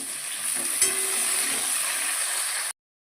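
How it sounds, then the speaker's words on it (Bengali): Potatoes, eggplant and onion fry together in hot oil in a pan, a steady close sizzling hiss with a brief stir or clink partway through before it cuts off abruptly. "আলু বেগুন আর পেঁয়াজ তেলগুলো সব একসাথে ভেজে নেবো"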